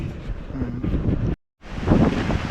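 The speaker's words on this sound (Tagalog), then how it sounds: "Umulan. Lakas ng hangin." Strong wind with rain buffets the microphone in heavy low rumbling gusts, cutting out briefly to silence midway before the roar returns.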